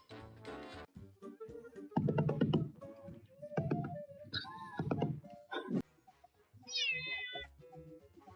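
Cat meowing while playing with a teaser toy: a series of about half a dozen short, fairly quiet meows and whiny cries with brief pauses between them, close by and with no talking.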